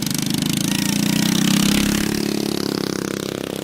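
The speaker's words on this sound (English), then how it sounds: "And we cut up with mini bikes out here." Minibike engine revving hard and continuously at a drag racing event, a loud, close buzzing drone that rises slightly and then eases, with no talk over it.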